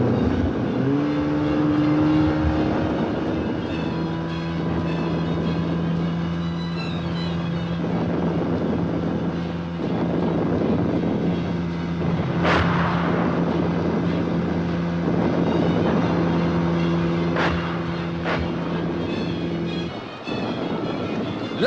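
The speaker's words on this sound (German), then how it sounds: "Die erste Welle Sturmboote übersetzt." Wartime assault boats crossing water, a steady engine drone with sustained tonal hum and wind rush lasting throughout, loud and continuous with no speech.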